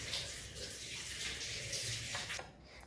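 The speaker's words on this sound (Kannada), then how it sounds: "ಇವಾಗ ಫುಲ್ ನೀರು ಹಾಕ್ಕೊಳ್ಬೇಕು ನೋಡಿರಿ." Water is poured in a continuous loud rush over rava soaking with urad dal in a kitchen, splashing steadily for a few seconds before tapering off at the end.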